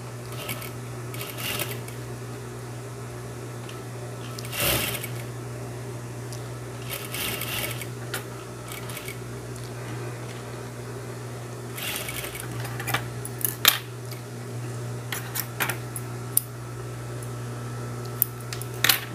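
A sewing machine stitches a zipper onto a pair of shorts, its motor humming steadily and close for the whole stretch, broken by a few light clicks and taps.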